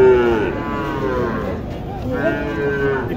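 A cow at a cattle market gives a long, drawn-out moo, then a second one after a short pause, close and loud against a busy outdoor background.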